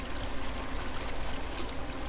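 Steady flowing water in the block-building game Minetest, a continuous broadband rush and trickle with no breaks, fairly close and moderate in level, with no voices over it.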